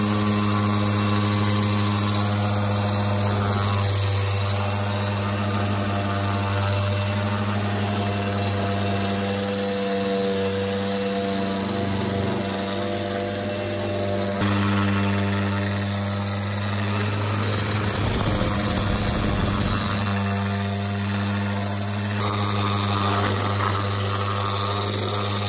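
A large random orbit sander works a wooden tabletop to remove scratch marks, giving a loud, continuous motor whine with a steady hum that varies slightly as it moves across the surface.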